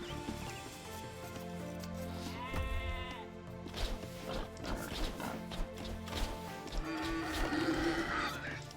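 Repeated sheep bleats ring out over a busy mix of Age of Empires II game sounds and music, with occasional thuds and crashes.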